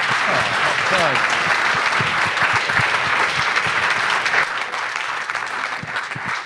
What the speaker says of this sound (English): So if we could get a quick round of applause for our Alfie speakers.